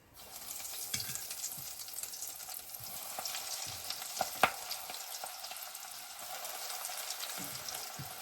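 Battered onion rings deep frying in hot oil make a steady, close bubbling sizzle, dotted with a few sharp ticks and small clinks as they are turned with a fork.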